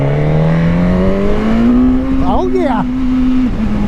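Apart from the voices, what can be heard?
Suzuki GSX-S1000 motorcycle engine accelerating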